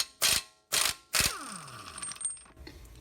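An Earthquake impact wrench rated at 950 foot-pounds hammers a 32 mm socket during an EF Civic sedan engine swap: three sharp, loud rattling bursts in quick succession, then a metallic ringing decay.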